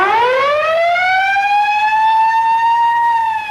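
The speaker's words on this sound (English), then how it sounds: "Siren switches are thrown." A 1940s home-front air raid siren winds up and holds a loud, steady rising wail alone for several seconds, with no other sound.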